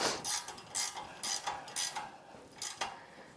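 Ratchet wrench tightening a hairpin spring bolt on an old-school chopper motorcycle, several short bursts of close metallic clicking in an uneven rhythm, with no talk.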